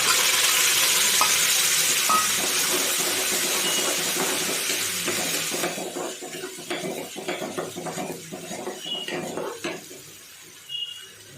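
A peanut chutney mixture hits a hot ghee tempering with chillies and is stirred and fried, starting with loud dense sizzling that fades halfway into quieter frying with repeated spatula scrapes and clinks against the pan.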